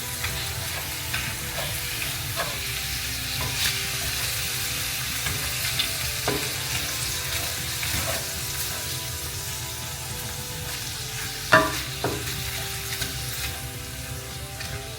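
Ground beef broken up from hamburger patties fries in a pot, giving a steady close sizzle and crackle for the whole span, broken by a few sharp scrapes and clinks of a stirring utensil.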